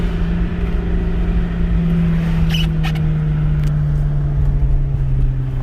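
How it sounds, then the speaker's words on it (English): A Ram pickup truck cruises on light throttle, its exhaust giving a steady low droning rasp that holds evenly throughout, with faint cabin noises and no talk. "You gotta stay on the gas lightly to not get the rasp."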